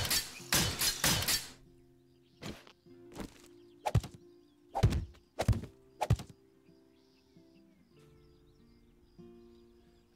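Wooden crate smashed in 7 Days to Die Alpha 11: a flurry of loud splintering cracks up front, then a string of sharp separate thunks and breaking hits spaced about a second apart, fading into quiet.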